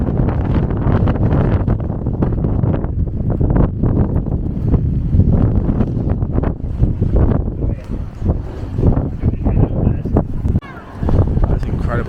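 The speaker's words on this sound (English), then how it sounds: "This wind is crazy" Strong wind buffets the microphone atop Warwick Castle, a loud continuous roar with heavy gusting rumble throughout, while a person talks over it.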